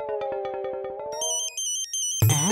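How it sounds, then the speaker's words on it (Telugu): A mobile phone ringtone plays a quick run of bright electronic tones, then a higher beeping melody, and ends in a sudden burst of louder sound, all close and clear with no talk. "ఏరే రింగ్ టోన్ వస్తుంది"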